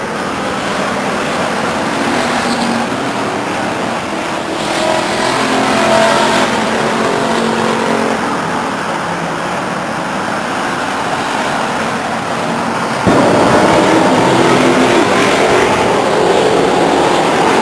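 Race cars circle the track at Stockton 99 Speedway in 1999, a loud sustained engine roar that swells and fades as the field passes, then jumps louder near the end as cars sweep close.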